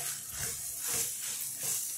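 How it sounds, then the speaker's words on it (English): Pasta water boils over on a stove top, giving a steady, soft hiss of steam and sizzling with no voices. "pasta is boiling over a little bit"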